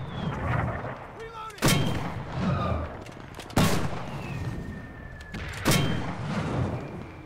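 Mortar squad artillery fire in the video game Enlisted: three sharp, booming mortar launches spaced about two seconds apart, heard over continuous battlefield ambience.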